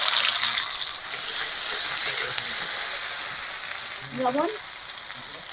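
Ground spice paste sizzles and fries in hot oil with green chillies and turmeric, a close, continuous hiss with stirring, while a voice speaks briefly.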